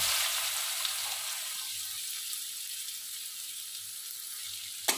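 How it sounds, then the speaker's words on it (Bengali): Onions dropped into hot oil in a pan after cumin tempering, giving a steady, even hiss of frying that runs throughout with a small clatter near the end. "তারপর আমি পেঁয়াজগুলো দিয়ে দেবো।"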